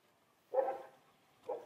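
Leo, a Doberman, gives two barks, the first a little longer and the second short, close but fairly soft, against a quiet background.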